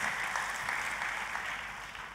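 Church congregation clapping for God, a steady dense wash of applause held at even loudness throughout, with no voices standing out.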